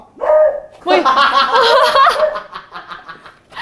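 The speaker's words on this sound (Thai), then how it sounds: "น้องหมาเห่าอยู่" A dog barks at home in a few short bursts, fairly close and loud, with gaps between.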